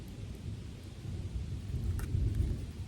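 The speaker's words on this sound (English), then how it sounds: "I didn't really expect that I'd be in a thunderstorm while I was doing a reading." Low, rolling thunder rumbles through a thunderstorm among pine trees in Maine, swelling steadily over a bed of rain and rustling, with a few faint sharp ticks near the middle.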